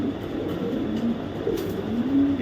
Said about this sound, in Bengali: এখানে দেখাবো একটা কবুতর